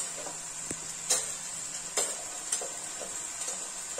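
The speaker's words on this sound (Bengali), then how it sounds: "একটা টমেটো বেটে রেখেছিলাম, সেটা দিলাম। এটা দিয়েও একটু ভাজা ভাজা করতে হবে।" Ground tomato paste with garlic fries in a pan for a fish curry, giving a soft, steady sizzle broken by a few sharp scrapes and taps of a stirring spoon, close and without speech.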